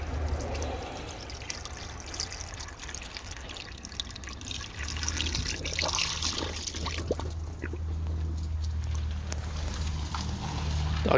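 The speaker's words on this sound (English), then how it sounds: "I'm gonna take my distilled water and fill the radiator back up" Distilled water pours from a container into a Jeep's radiator, a steady close trickle and splash that runs the whole time against a low rumble, with faint talk in the background.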